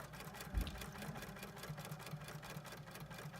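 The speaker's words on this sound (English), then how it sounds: "You just come here and sew these two together" A sewing machine stitches a ribbon double welt pocket at a regular 2.5 stitch length, giving a close, steady motor hum with a brief thump near the start, and nobody speaks over it.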